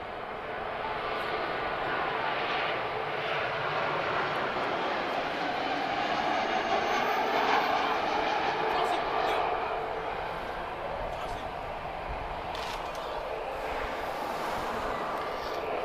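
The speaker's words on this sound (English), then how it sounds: "It's a spirited arrival there from Transavia." A Transavia Boeing 737 landing at Lisbon Airport sends a swelling jet roar with a rising and falling whine that peaks midway and slowly fades as it passes at moderate distance, with people talking over it.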